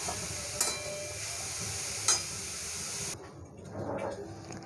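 Grated coconut dry-roasts in a pan over a medium flame while it is stirred, giving a soft steady hiss and sizzle with a couple of sharp scrapes. The sound drops quieter near the end.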